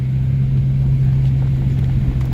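A Mk1 Renault Clio RN 1.2 D7F engine with an idle control valve problem idling close by, a steady low throbbing hum with a constant tone, unchanging over a couple of seconds.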